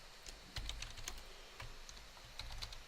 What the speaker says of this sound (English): this is where you're gonna type in homeowners